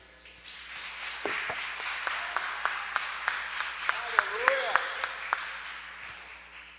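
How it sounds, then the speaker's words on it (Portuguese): Church congregation applauding during a Sunday morning Bible study service, a steady wash of clapping with sharp individual claps standing out, under a preacher's voice that calls out throughout. "Dá uma salva de palmas para Jesus."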